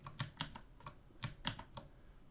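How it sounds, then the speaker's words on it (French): A computer keyboard tapped for a Ctrl+V paste shortcut, giving a handful of crisp, close key clicks in two small bursts, quiet and with no voices. "Je vais à la ligne, je fais CTRL V et il colle."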